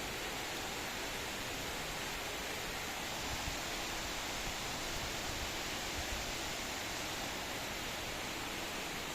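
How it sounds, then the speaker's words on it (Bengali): Heavy rain pouring down with thunder and wind about, a dense, unbroken roar of falling water heard close and loud throughout. "বৃষ্টি প্রচুর পরিমাণে বৃষ্টি হচ্ছে"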